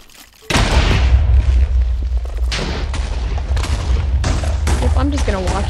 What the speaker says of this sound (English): I just heard TNT